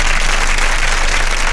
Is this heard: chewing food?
no